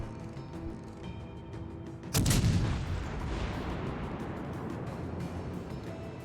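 A single heavy boom of warship guns firing in a naval battle game, including a Richelieu-class ship, striking sharply at about two seconds and rolling away into a long rumbling tail, loud and alone.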